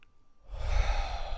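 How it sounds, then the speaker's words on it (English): A single deep breath drawn in during a calm, eyes-closed centering exercise, silent at first and then a long, close, breathy inhale-exhale rush lasting about a second, with no talking. "take a nice deep breath"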